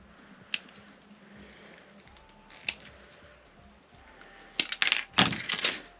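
Plastic Star Trek Galileo Shuttle model kit parts snipped off the sprue, with two sharp isolated clicks followed by a cluster of rapid snaps and rustling handling close by.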